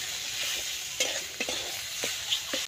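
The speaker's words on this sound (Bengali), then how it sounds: "অল্প পরিমাণে 5 ফোড়ন দিয়ে ভালো করে ভেজে নেব" Panch phoron and cumin powder frying in fish oil in a pan, a steady close sizzle broken by several spatula scrapes and knocks.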